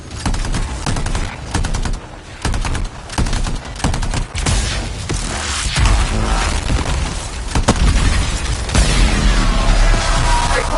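Heavy gunfire from a large weapon in the video game Anthem, loud rapid bursts mixed with booming explosions and crashes, continuous and dense throughout.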